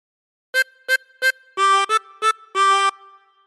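Tremolo harmonica playing a phrase of Old McDonald Had a Farm. Seven short breathy wavering notes, some clipped and some held, come in a simple rhythm, close and clear, alone after a brief silence.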